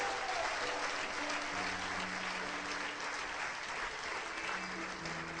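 A church congregation applauds during a pastor's sermon, producing a dense, sustained wash of clapping throughout that stays steady and full.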